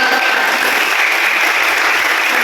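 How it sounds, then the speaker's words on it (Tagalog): Children clapping at a feeding program, a dense, loud, continuous patter of many small hands close by, steady throughout without breaks. "Palakpak po. Palakpak mga bata."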